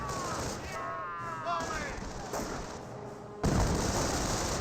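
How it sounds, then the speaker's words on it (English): MG42 machine guns fire in a Company of Heroes battle, sustained gunfire and distant booms forming a dense wash under a commentator's voice, with a louder burst near the end. "The other MG42 now seeing quite a bit of fire there."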